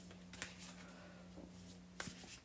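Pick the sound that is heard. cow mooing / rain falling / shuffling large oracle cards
shuffling large oracle cards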